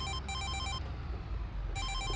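A telephone rings in Farming Simulator 22, two bursts of electronic ringing separated by a short gap, loud and close over a low engine rumble.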